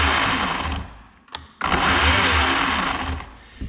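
A WEN 40V cordless chainsaw runs close by with a loud, high whining buzz that drops away briefly and then surges back to full speed.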